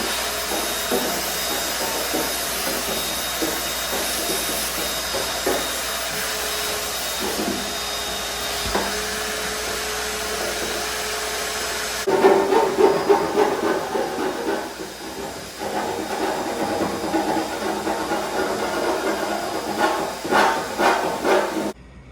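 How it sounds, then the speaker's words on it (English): A shop vacuum roars steadily with a loud hissing whine, its tone shifting midway as the nozzle moves and sucks up debris from a car's fuel-injection intake. "But first, let's vacuum her up."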